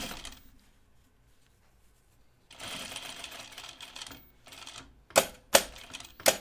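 A sewing machine stitches quilt binding, turning a corner with two angled stitches. Quiet handling comes first, then a steady motor whir and several short, sharp stitching bursts near the end.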